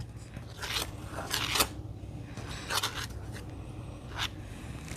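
Shortening being cut and stirred into biscuit dough in a bowl, with scraping, crunchy strokes in an irregular rhythm, close and moderately loud.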